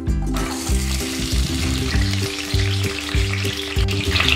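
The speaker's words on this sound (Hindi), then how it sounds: "और गोल्डन कलर आने तक आलूओं को फ्राई कर लेंगे।" Boiled potatoes fry in hot oil in a kadhai for dum aloo, a steady close sizzle and crackle running the whole time beneath background music.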